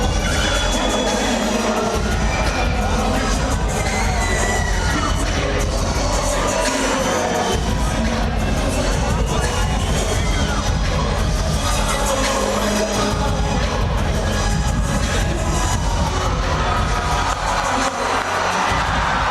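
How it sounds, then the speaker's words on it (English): A mixed martial arts event crowd in an arena roars and cheers as a fighter makes his entrance, a loud, dense, continuous din of shouting voices with surging swells and occasional bangs throughout. "This crowd is getting revved up for the entrance of Kala Kalohe Hose."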